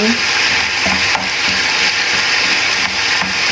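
Stroganoff with spinach and cooking cream simmering in a pan and being stirred, a loud continuous close sizzle with repeated soft scraping and thudding strokes of the spoon.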